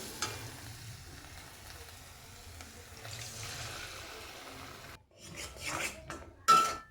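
Beaten egg poured into a pan of frying egg-patty stuffing, with a steady sizzle that breaks into louder stirring and scraping near the end.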